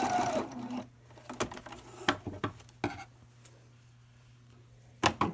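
A sewing machine stitches a face mask made from a Crown Royal bag, running in several short, close whirring bursts separated by quiet pauses.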